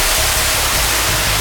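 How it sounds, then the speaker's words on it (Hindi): A waterfall near the Mata Khudiya Rani cave roars as a loud, constant broadband rush of falling water, filling the whole moment without a break. "इतना अच्छा झरना गिर रहा है यहाँ"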